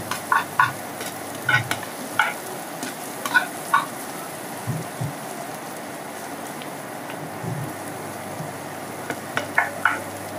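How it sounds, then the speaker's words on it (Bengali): Onions with salt fry in a pan pushed to one side next to cooked fish, giving a soft continuous sizzle with clusters of scraping stirs that fade to a quieter hiss midway, then return. "সব সরাই দিয়ে আমি পেঁয়াজটা ভাজতেছি।"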